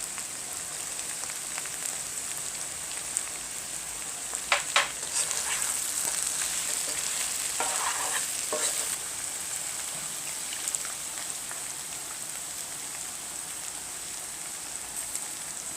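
Beef browning in a pan for a stew with okra and aubergine, a steady loud sizzle with bursts of scraping and clatter as it is stirred, no voices.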